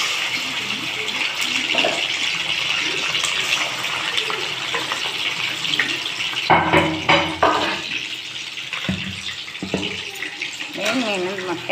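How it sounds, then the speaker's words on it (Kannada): Fish roe sizzles in hot oil in a pan with a steady hiss, broken by scraping and clinking of utensils and a voice speaking. "ಮೀನಿನ ಮೊಟ್ಟೆ ಎಣ್ಣೆಯಲ್ಲಿ ಬಿಡ್ತಿದ್ದೀನಿ"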